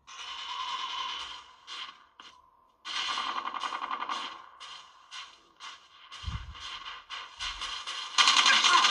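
Gunfire from Call of Duty plays through the loud speakers of a Doogee S90C rugged smartphone, with rapid automatic bursts broken by short pauses, ending in a louder, denser burst.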